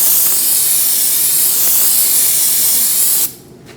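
A loud continuous hiss of aerosol spray, brake cleaner on the front brakes of a 2013-2019 Cadillac ATS, runs for about three seconds, then cuts off abruptly, leaving quiet.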